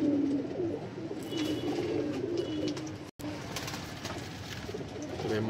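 A Sialkoti pigeon coos in soft, repeated low calls, close by and continuous, with one brief dropout midway.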